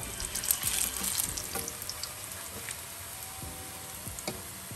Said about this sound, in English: So we're gonna let the edge of the plantain just fry a little golden brown